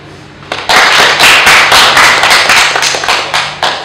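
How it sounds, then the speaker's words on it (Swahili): An audience of farmers at a pyrethrum farming event bursts into clapping, a dense, close applause that starts half a second in and holds steady to the end with individual claps standing out. "Pigieni makofi"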